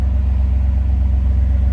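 1987 Chevrolet Camaro IROC Z-28 with a 305 V8 idling, heard from the rear as a steady low rumble with no talk.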